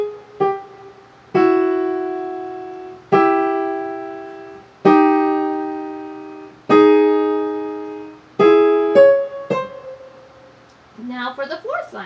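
A piano plays a line from Khachaturian's Waltz in slow, evenly spaced chords and notes, each struck firmly and left to ring and fade, ending in a quicker flourish.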